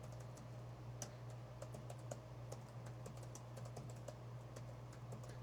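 Quiet, steady typing on a computer keyboard, with a rapid irregular clatter of key presses over a low background hum and no speech.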